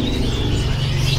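Canary chirping briefly amid the low hum of a bird market kiosk at Pasar Burung Pramuka, the faint trills sitting over steady background noise.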